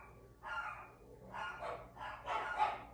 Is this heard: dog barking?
yes